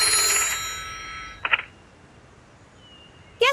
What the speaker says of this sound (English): The phones in the treehouse and the Moss's house were ringing off the hook.